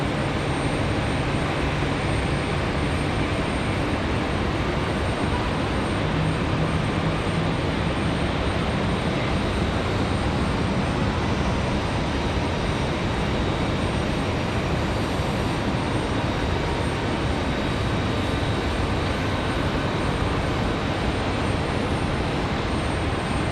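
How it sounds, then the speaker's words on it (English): An airliner taking off at Raleigh-Durham International roars loudly and continuously on a windy day, a dense engine rumble that holds steady throughout without voices. "Alright, they're cleared for takeoff already."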